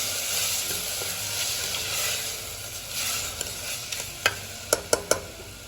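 Rock salt is stirred into a farali mixture frying in a pan, with a continuous close sizzle and soft scraping of the stirring, then a few sharp clicks of the spoon toward the end; no talking.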